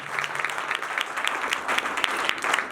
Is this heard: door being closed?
no